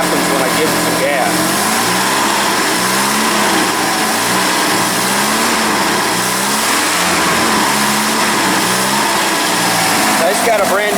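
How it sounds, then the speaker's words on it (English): A 1982 third-generation Camaro engine, freshly started on a fuel cell after twenty years, idles close up and revs in repeated throttle blips, rising and falling roughly and loudly throughout. "Let's see what happens when I give it some gas."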